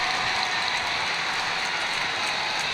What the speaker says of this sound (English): You hear the Songus crowd cheering on the home team, Boston, in the late stages of regulation.